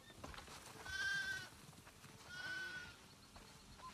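Sheep on a farm bleat in the video game The Last of Us Part II, two drawn-out calls about a second apart, moderately near, over soft background rustling and ambience.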